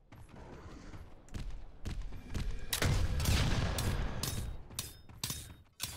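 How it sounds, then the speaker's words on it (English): A firebomb launcher fires in the 2019 video game Revulsion, a rapid string of loud, punchy blasts with heavier booming bursts in the middle, repeating close and unbroken. "Firebomb launcher."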